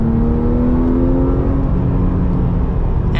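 Porsche 997 GT3 RS 4.0 in stock form, its flat-six revving hard and loud up close with a rising, sustained engine whine; no voices.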